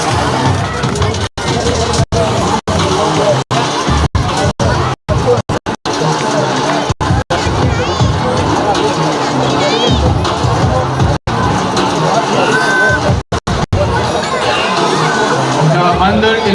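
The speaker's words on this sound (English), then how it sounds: "Can we have a big round of applause for him?" A crowd at a youth football awards ceremony in Bengaluru claps and cheers in a sustained burst of mixed applause and shouting children's voices, with babble underneath and brief dropouts.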